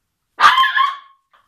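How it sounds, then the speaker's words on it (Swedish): A single dog bark, close and fairly loud, lasting under a second, followed by silence. "livet med hundar"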